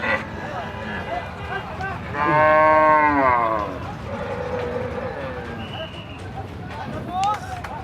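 A large cow being unloaded at a cattle market in Kushtia, Bangladesh, lets out one long, loud moo amid a noisy outdoor crowd, with people talking throughout.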